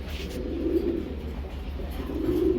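Pigeons at a seller's stall coo in soft, low, murmuring pulses that run on continuously at moderate volume behind a steady background hum.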